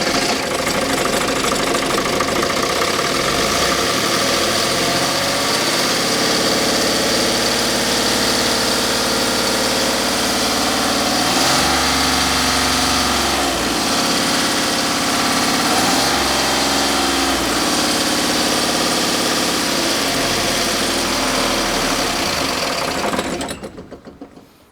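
A Magirus Deutz 170D11 tractor's diesel engine runs loud and steady nearby, with throttle pushed toward full revs, holding a rough, knocking drone that swells in pitch a couple of times before cutting off at the end.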